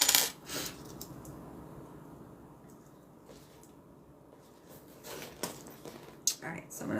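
Welded metal 1-inch D-rings clink together in a few brief, light metallic taps near the start and end, with quiet room tone between.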